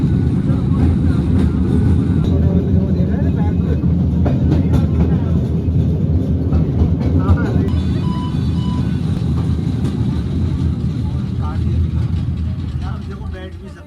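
An underground coal mine man-riding rail car moves along its track 350 metres below ground, giving a loud, continuous rumble and rattle with rhythmic clatter of wheels throughout. Someone talks over the noise.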